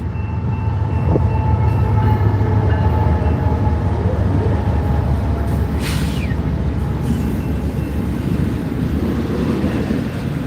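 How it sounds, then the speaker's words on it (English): A Norfolk Southern intermodal freight train rolls past on a busy transcontinental main line, its steady low rumble and wheel noise filling the scene with a faint horn-like tone, under wind buffeting the microphone. "It's an intermodal train with NS third out."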